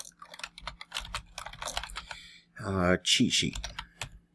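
Rapid clicking keystrokes on a computer keyboard typing a web search, close and crisp, with someone speaking briefly toward the end.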